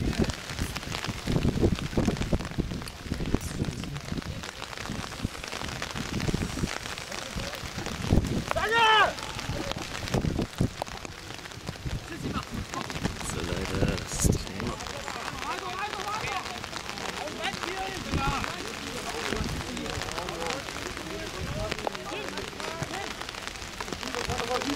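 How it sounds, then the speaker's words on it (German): Rain pattering down steadily at an outdoor friendly football match, with gusts of wind buffeting the microphone and people talking over it now and then. "Jetzt kommt der Regen wieder so mehr von oben"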